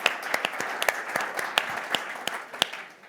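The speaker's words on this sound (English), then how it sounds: "Big round of applause for" Small audience clapping at a modest, uneven pace, individual sharp claps standing out over a soft applause bed that fades toward the end.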